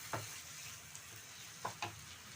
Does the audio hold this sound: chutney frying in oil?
yes